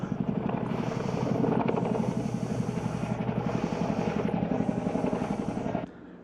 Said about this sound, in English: That Chinook's doing something.